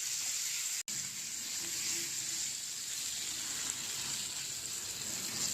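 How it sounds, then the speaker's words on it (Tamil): Vegetables for a paneer gravy sauté lightly in a hot pan, giving a steady, close sizzle that runs evenly throughout with a brief dropout near the start and no talking. "இதெல்லாம் லைட்டாக வதக்குங்க, ரொம்ப அதிகமாக வதக்கிறாதீங்க."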